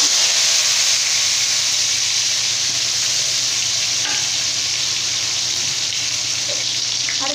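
Chopped onion, tomato and bay leaf hiss and crackle in hot oil with mustard seeds, a loud, dense, continuous sizzle close by without talk.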